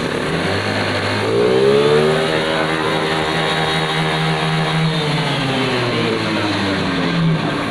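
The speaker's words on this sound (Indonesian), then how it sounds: "Ini posisi motor hidup." A Honda Vario 150 fuel-injected scooter engine idles steadily up close, and its hum rises briefly as it revs a little before settling back to an even idle.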